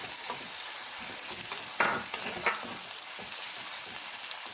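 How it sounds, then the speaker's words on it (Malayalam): Chopped shallots and onions being stirred and sautéed in a pan for Kerala-style potti fry, with a soft, steady sizzle and intermittent spatula scrapes, two slightly louder strokes midway, close and fairly quiet. "നമ്മൾ അതിൽക്കൂടെ ചെറിയ ഉള്ളി നമ്മൾ അരിഞ്ഞ് വെച്ചത് ചേർക്കാണ്"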